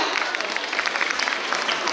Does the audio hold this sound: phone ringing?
no